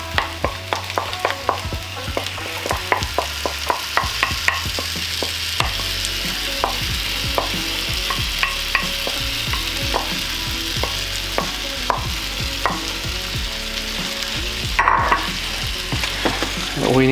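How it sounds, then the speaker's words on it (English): Tofu frying with chili sauce in a pan, a loud close sizzle punctuated by a rapid, regular series of utensil clacks and scrapes as it is stirred, with no talk. "we're just going to add our sauce to the tofu"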